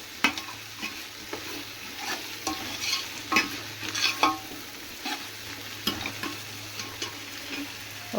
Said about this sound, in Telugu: మసాలా అంతా వేగేంత వరకు తిప్పుకుందాం ఫ్రెండ్స్, లేకపోతే మాడిపోతుంది కదా